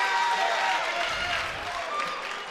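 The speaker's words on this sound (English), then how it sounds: "And the crowd is responding. Half of them on their feet here." Crowd at an MMA fight in Regina, Saskatchewan, a steady wash of cheering and applause throughout, with a commentator's voice talking over it.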